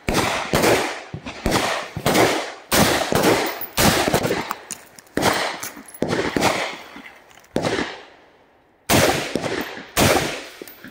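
Loud nearby shots from a new AR-15 rifle ring out in rapid clusters and single cracks, each with a decaying echo, with a short silent gap before the final pair of shots.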